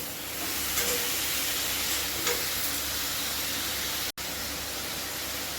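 Vegetables and chicken fry in a pan for a soup, with a steady hissing sizzle close up and a couple of faint stirring touches.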